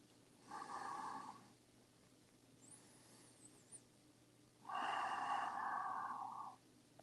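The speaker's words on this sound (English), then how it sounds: "Breathe deep." Two slow, deep breaths during a yoga twist, a soft airy inhale followed by a longer exhale, close and quiet against a faint low hum.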